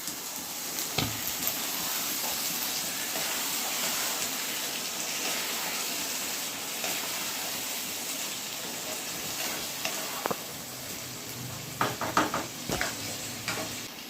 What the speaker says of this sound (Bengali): ধোয়া চাল ডালটা এর মধ্যে দিয়ে একটু কষে নেব